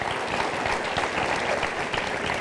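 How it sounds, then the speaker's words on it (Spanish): Congregation applause at a Spanish-language church sermon, a dense steady wash of many clapping hands filling the space, sustained at an even level throughout. "Dale un aplauso al Señor"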